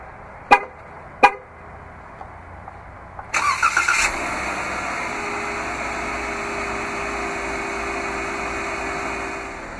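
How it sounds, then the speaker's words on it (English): A 2015 Jeep Wrangler Unlimited Rubicon four-door hardtop gives two short horn chirps on remote start, then its engine cranks and catches with a brief roar before settling into a steady idle, with no one talking. "this vehicle is equipped with remote start."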